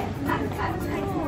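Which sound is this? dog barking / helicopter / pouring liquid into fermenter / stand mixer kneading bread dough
dog barking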